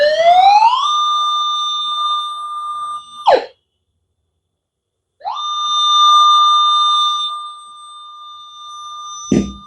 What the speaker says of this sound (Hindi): इस वाले पिन पॉइंट वाली बटन को दबा देंगे तो जब भी इसके सामने मेटल आएगा